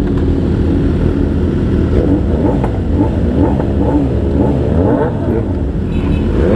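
Honda CBR motorcycle engine revving loudly and close, with rising and falling revs over a steady idle and other bikes nearby on a group ride.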